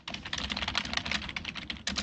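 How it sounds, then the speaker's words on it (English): Rapid typing on a computer keyboard, a dense, fast clatter of close keystrokes that runs continuously for a couple of seconds, heard alone. "I can hear typing."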